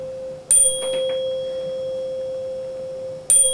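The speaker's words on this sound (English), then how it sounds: "This is the waveform for the finger-held tuning fork, acquired by the microphone through the computer's sound card." Finger-held tuning fork ringing with a steady pure tone, a sharp bright strike at the start and another near the end, the clear note holding evenly between them in a quiet room.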